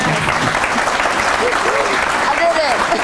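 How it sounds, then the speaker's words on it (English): Wedding ceremony guests applaud the bride with steady, dense clapping that fills the room at close range, with a few voices and whoops rising through it. "So I would say our bride will deserve a round of applause."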